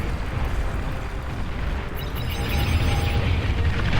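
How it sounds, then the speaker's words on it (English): Bombs exploding in the video game Beyond All Reason during a large 8v8 battle on the All That Glitters map: a dense, rumbling wash of overlapping blasts that swells louder toward the end, with no talk. "Spooky bombs a commander right in the center"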